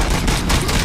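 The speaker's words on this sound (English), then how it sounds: "I like this pistol so much because it's automatic and semi-auto" Automatic pistol gunfire in the video game Robocop Rogue City: a dense, rapid burst of shots, loud and close, filling the whole moment with no talk over it.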